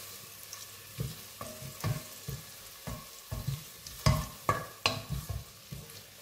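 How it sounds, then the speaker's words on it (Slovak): Onion sautés in a pan with a quiet background sizzle, broken by a dozen or so distinct scraping stirs that come in irregular bursts, louder toward the end. "Cibulu si orestujeme."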